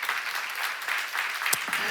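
Church congregation clapping together at a Korean worship service, a steady dense round of applause that swells and dips briefly, with a sharper clap burst near the end.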